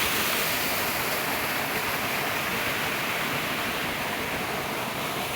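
A steady, loud rush of a waterfall roars without pause, running heavy after an earthquake, a dense broadband hiss that fills the whole clip.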